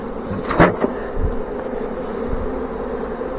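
Dense, steady buzzing of a large honey bee swarm clustering on a bait trap outdoors, a continuous near hum with a few sharper bursts of individual bees passing close.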